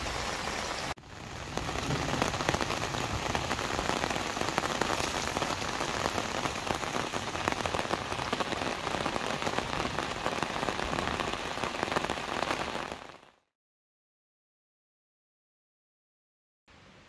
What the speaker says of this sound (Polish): Teraz sobie chwilę posiedzimy i pooglądamy deszcz.